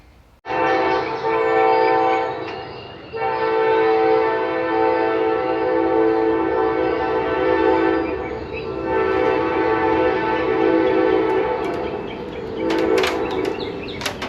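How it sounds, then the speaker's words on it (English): Loud train horn blasting in long sustained chords near a workshop where a 1963 Ford Falcon is getting an LS swap, with rumbling rail noise underneath and brief pauses between the blasts. "I think the train got near."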